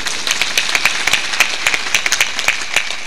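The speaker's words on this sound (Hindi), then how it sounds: "थोड़ा ताली जोर बजाया करो" Audience at a spiritual satsang gathering in Amarwara, Chhindwara, Madhya Pradesh, clapping loudly and steadily at close range, with sharp individual claps standing out in a quick, fairly even rhythm.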